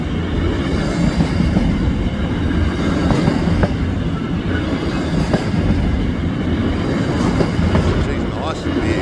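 Goods train rolling past on tracks in the Adelaide Hills, a continuous loud rumble of wagons with rhythmic wheel clatter throughout, near and steady.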